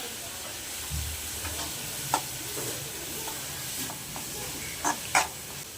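Masala and ginger garlic paste sautéing in a pan: a soft continuous sizzle with occasional faint stirring scrapes and small pops, fairly quiet.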